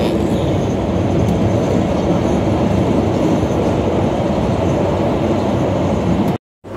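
Train in Turkey carrying passengers toward a station, a steady loud rumble of wheels and car noise heard from inside, continuous before cutting off abruptly.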